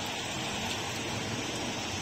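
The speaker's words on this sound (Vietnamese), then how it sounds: "Trời đang mưa" Steady rain pours down in a dense, even hiss, with no voices or other sounds standing out.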